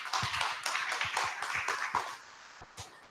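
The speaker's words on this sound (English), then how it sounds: "Ladies and gentlemen, give applause." Applause from a conference audience welcoming a speaker to the stage, a spread of individual claps, moderately loud and fairly dense, thinning toward the end.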